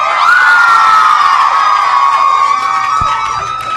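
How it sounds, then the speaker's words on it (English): A live audience at a Chicago podcast taping screams loudly and continuously, a shrill crowd roar that holds steady for several seconds before easing slightly, with no talk over it. "If you agree with me and Andrew, just scream really loud."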